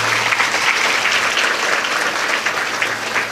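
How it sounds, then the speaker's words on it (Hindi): An audience at a Shrimad Devi Bhagwat Katha gathering breaks into loud, sustained applause, dense clapping that fills the whole stretch without a pause. "तालियों से स्वागत करिए।"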